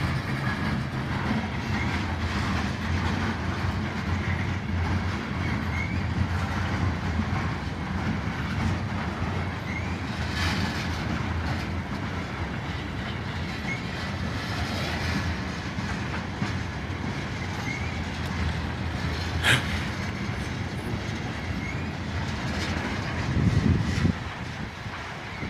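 A long BNSF freight train of tanker cars rolls steadily past at close range in Piscataway, with continuous loud wheel rumble, rhythmic clickety-clack over rail joints, and occasional brief squeals, with no speech.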